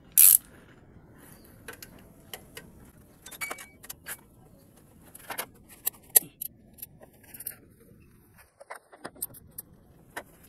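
Ratcheting clicks from a 14 mm socket wrench loosening a bolt under the alternator of a ninth-generation Toyota Corolla, coming in short irregular bursts close by after a sharp initial clank.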